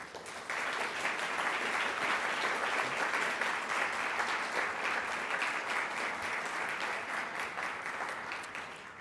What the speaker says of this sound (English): Let's give our 2024 graduates a huge round of applause.